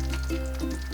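Round pieces of injera frying in a pan for Ethiopian firfir, a close steady sizzle with faint stirring scrapes over a low continuous hum.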